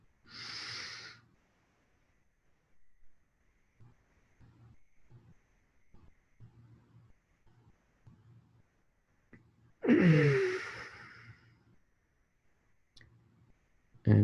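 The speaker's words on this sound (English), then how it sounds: "Deep breath." Deep breaths drawn during a Tummo meditation session: two loud, airy breaths about ten seconds apart, close to the listener, with near silence and only faint low rustles between them.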